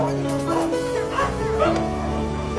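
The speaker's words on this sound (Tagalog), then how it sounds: "Daming aso, daming aso." Several stray dogs bark and yip at close range in a short, busy burst, with people talking over them.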